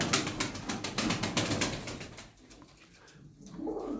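Aksaray tumbler pigeons close by, a burst of rapid wing flapping followed by soft cooing, with no talk.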